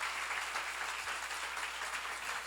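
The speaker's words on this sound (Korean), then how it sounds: "박수 좀 세게 쳐요" Church seminar congregation clapping hard and steadily, a dense, continuous wash of applause with no voices over it.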